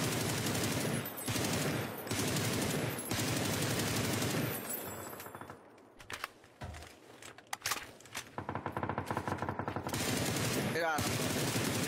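A suppressed gun fires in a video game, first in repeated rapid bursts and then in scattered shots and clatter, while players talk over the action.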